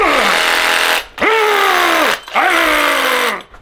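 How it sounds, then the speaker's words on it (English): A reciprocating saw (Sawzall) cuts through a bolt for a Ferrari F430/360 engine mount, three loud, sustained buzzing runs with short pauses between them. "So, sawzall."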